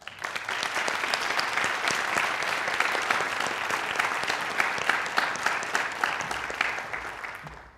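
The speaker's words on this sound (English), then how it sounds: "Please join me in thanking them with a round of applause." A round of applause at a school National Honor Society new member induction ceremony, many hands clapping in a sustained, even burst that holds steady before tapering off at the end.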